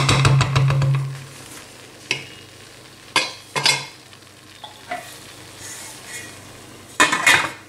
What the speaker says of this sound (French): Une fois le riz bien mélangé avec la sauce et les légumes.